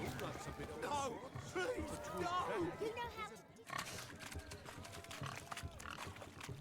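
Pigs oink and grunt in a swine-racing game during a party in The Witcher 3: Hearts of Stone, with busy snorts mixed under nearly constant talking voices.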